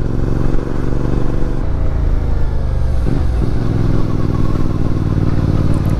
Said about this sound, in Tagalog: may mga dumadaan din na nakasingle na motor